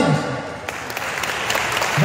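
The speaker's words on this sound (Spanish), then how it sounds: "esos aplausos que ustedes dan a todos los que nos subimos arriba" A live concert audience claps and cheers, a dense burst of applause that stays loud for the whole moment and swells again toward the end.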